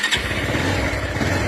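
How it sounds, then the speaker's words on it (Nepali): A motorbike engine starts after repair and settles into a steady, close, mid-pitched running rumble with a fast regular pulse throughout. "बाइक स्टार्ट हुन्छ कि हुँदैन हेर्नुहोस् है त"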